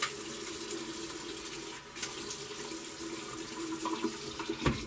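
A safety razor is rinsed under a running tap. Water pours and splashes steadily into a sink, and a few light clinks of metal come near the end.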